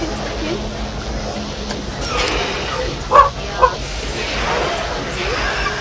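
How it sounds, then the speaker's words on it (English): A dog gives two short, sharp barks at moderate distance, standing out against steady background noise from a computer game and a room. "He is barking."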